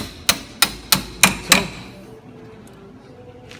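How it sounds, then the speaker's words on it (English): Small hammer lightly tapping on a screw or fitting, five evenly spaced crisp metallic taps in quick succession, then quiet; a voice briefly speaks. "let's use a little hammer here"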